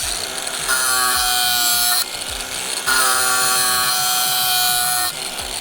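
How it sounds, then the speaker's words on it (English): A grinder sharpens a lawn mower blade, giving a loud, steady high-pitched whine with a ringing tone. It runs in two long passes, each broken by a short dip as the grinder lifts off the metal. "That's from letting the grinder sit for too long."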